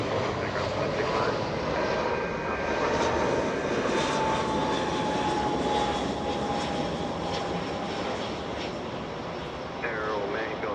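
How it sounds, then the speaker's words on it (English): A JetBlue airliner arriving from Sacramento at Los Angeles International Airport gives a steady, loud engine roar that fills the whole stretch, with faint radio voices running underneath. "penning the camera to the arrival JetBlue from Sacramento, California"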